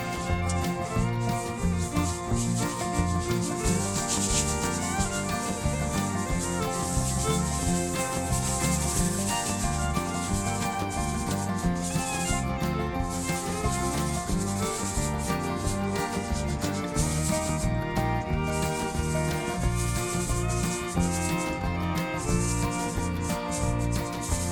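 Continuous dry rubbing as paste wax finish is worked onto a handmade wooden heritage crate, a steady close scrubbing texture with rhythmic strokes and no talk, alongside a tonal background layer.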